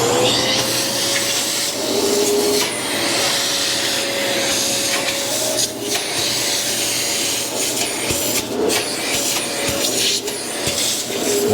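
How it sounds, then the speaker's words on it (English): A vacuum cleaner sucks dirt and debris out of a small hole beside a loose ceramic floor tile, a loud continuous roaring whine close up, with faint scraping as the nozzle moves. "I went and I grabbed my vacuum"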